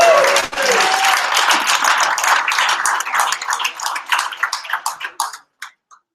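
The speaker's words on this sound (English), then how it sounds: "Big round of applause for Paul." Audience applause at a night-time hackathon judging event, a burst of loud clapping that thins into scattered individual claps and fades out over several seconds.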